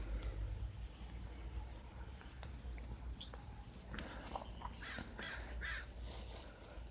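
A pet bird gives several short, scratchy calls in the second half, faint and at mid distance, over a steady low hum and a quiet room.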